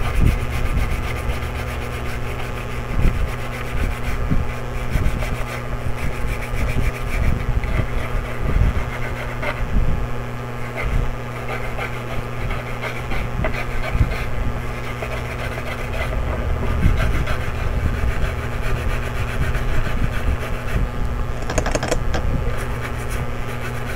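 A stiff brush scrubs a corroded Gigabyte RX580 graphics card circuit board in continuous rapid strokes. The scratchy rubbing holds steady for the whole stretch, close up and moderately loud, with no voices.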